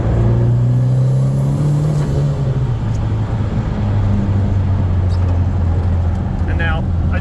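A Rabbit pickup truck engine pulls hard through second into third gear, its loud, close drone rising in pitch, dropping at the shift, then climbing again, with road and wind noise steady underneath.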